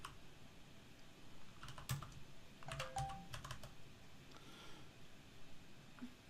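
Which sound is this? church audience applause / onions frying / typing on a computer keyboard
typing on a computer keyboard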